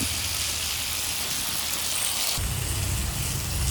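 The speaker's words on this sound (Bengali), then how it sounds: "মাছটা ভাজা ভাজা হয়ে গেল" Pieces of rui fish fry in hot oil in a pan, a dense, steady sizzle and crackle that holds loud and close throughout, with a brief stir part way through.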